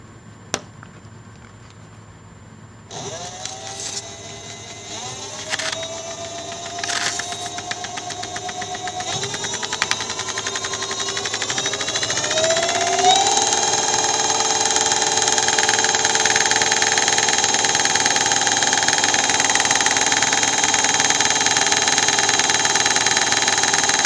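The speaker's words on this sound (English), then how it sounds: "I have a piece of junk mail, and I'm going to count the RPMs by how many clicks per minute." An XM-3000 72V electric scooter wheel spins up with a rising motor whine while a piece of junk mail clicks rapidly against it. The pitch climbs over several seconds, then settles into a loud, steady high-speed drone.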